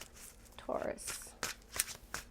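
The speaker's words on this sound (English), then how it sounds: "I'm going to shuffle the cards." Tarot cards shuffled by hand during a reading, with quick papery riffles and soft slaps in short irregular bursts, close and fairly quiet, and a voice murmuring faintly underneath.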